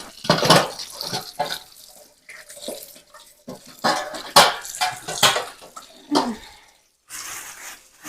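Raw chicken meat rinsed under a running tap, with bursts of splashing water and handling noises coming in irregular spurts separated by short pauses, close and fairly loud.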